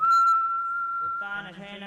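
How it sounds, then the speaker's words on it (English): A steady whistled tone, likely a whistling breath during a yoga exercise in a group practice, holds for over a second before a second, richer whistling or voiced tone with harmonics takes over, fairly loud and close. "Whistling sound."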